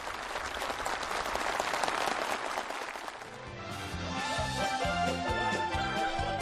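Warm, enthusiastic applause from workers and officials at a housing ceremony meeting in South Hwanghae Province, a thick crowd clapping that carries on as brass-band music rises underneath it.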